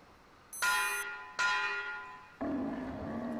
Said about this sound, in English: Dinner bell! Ding ding!